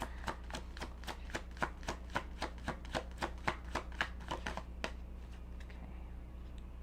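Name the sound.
shuffling tarot cards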